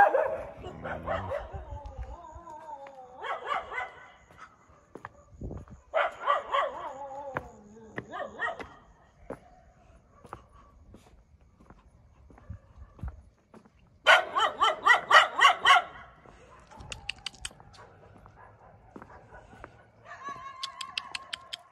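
Street dogs bark at midnight in Varanasi, India, with several dogs yipping and barking in irregular bursts, some close and loud. Quieter whimpers and pauses come between the bursts.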